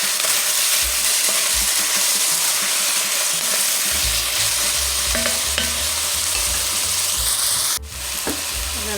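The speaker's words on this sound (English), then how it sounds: "Now we're going to add in our diced tomatoes. Go ahead and mix that up." Diced tomatoes being stirred in a hot cooking pan for chili mac, a loud close sizzle with scraping spoon strokes and low rumbling knocks against the pan, no voices.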